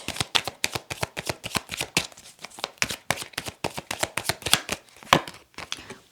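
Tarot cards are shuffled close by in quick, crisp riffles, a dense run of sharp flicks and slaps that keeps going without pause.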